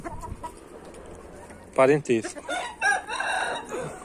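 Chickens cluck and a rooster crows at a poultry breeding farm, bursts of loud calls rising in the second half, with someone talking over the birds.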